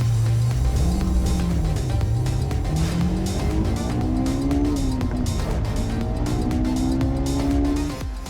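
Hyundai Ioniq 5 US-spec electric crossover driving, a steady loud rolling drone with rising and falling tonal whine that stays continuous for several seconds, close and alone without talk, easing off at the end.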